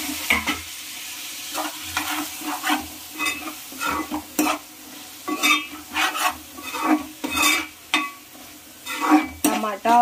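Tomatoes go into a frying mutton curry and are stirred, loud close sizzling with frequent scraping and knocking of a ladle on the pan in an uneven rhythm.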